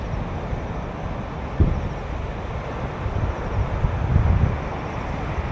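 Strong wind blowing through a forest, a steady dense roar close to the microphone with gusty buffeting and a few low thumps, no voices.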